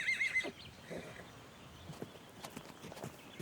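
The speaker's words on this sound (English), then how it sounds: "These wild mountain horses are quick learners." Wild Australian mountain horses, with a short whinny at the start followed by faint scattered hoof steps and light outdoor movement, no voices.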